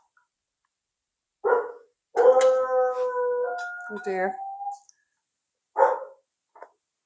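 House dogs break into a howl with sharp barks at a delivery man at the door, a long wavering howl followed by a few short barks, with someone speaking briefly over them in a home in Northern Ireland.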